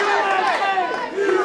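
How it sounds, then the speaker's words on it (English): Wrestling arena crowd chanting USA, a dense roar of many voices with rhythmic shouted chanting, fairly loud and continuous throughout. "The USA chants ringing out amongst the crowd here."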